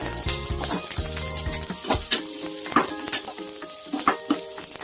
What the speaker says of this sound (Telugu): ఇప్పుడు కొద్దిగా హైలో పెట్టుకుంటే మనకి ఆనియన్స్ అనేది తొందరగా ఫ్రై అవుతుంది అన్నమాట.